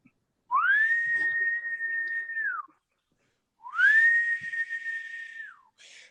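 Someone whistles two long, steady sustained notes, each sliding up at the start and held for about two seconds, loud and close with a short silence between them.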